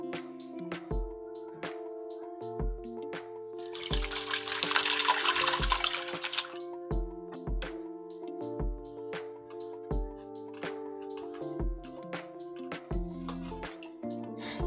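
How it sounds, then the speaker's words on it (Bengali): Chhena whey pours and drains through a cotton towel in a home kitchen, a loud rushing gush of liquid lasting about two seconds midway, with steady background music before and after. "এই গামছাটা আমি ছানা ছাকার জন্য আগে থেকে ভালো করে ধুয়ে পরিষ্কার করে রোদ্রে শুকিয়ে নিয়েছি।"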